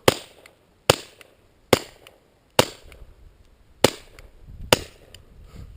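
Six sharp, muffled cracks from a suppressed firearm at irregular intervals, each followed by a brief mechanical clatter of the action cycling, with quiet outdoor background between them.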